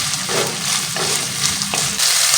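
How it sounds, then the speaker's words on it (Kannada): Capsicum, carrot and green peas frying in a pan for veg pulao, a steady close sizzle with occasional stirring scrapes throughout, no voices. "ಇವಾಗ ಇದನ್ನೆಲ್ಲ ನೀಟಾಗಿ ಫ್ರೈ ಮಾಡ್ಕೊಳ್ಳಿ"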